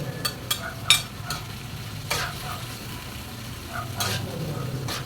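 Sliced carrots being stir-fried for pancit canton sizzle gently in a pan, with a few sharp scraping strokes of a utensil spaced through the steady frying hiss.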